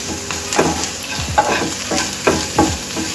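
Ground coriander and garam masala are stirred through frying taro pieces in a pan, with a steady sizzle broken by several distinct scraping strokes of a spoon, close and clear with no talking.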